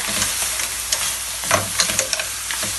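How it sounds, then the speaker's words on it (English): Ingredients sizzle loudly in a pan for lobster mac and cheese as a spoon stirs them through several quick scraping strokes, close and unaccompanied by talk. "Give that a good stir"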